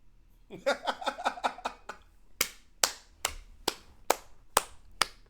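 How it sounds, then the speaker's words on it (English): A person claps their hands close by with no other sound: first a quick run of about seven claps, then five sharper, slower claps spaced evenly apart. "You know what I'm clapping for, don't you?"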